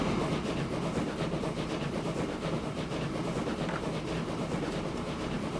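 A train with six cars running in the video game Transport Fever 2, a steady rolling rumble with faint rhythmic clatter and hiss, continuous and even, with no voices.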